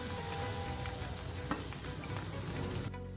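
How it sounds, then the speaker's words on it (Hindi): Bread slices frying in hot oil over a medium flame, a loud continuous sizzle with crackling that runs steadily before cutting off abruptly near the end. "चलिए तेल गर्म हो चुका है, अब हम ब्रेड को फ्राई कर लेंगे।"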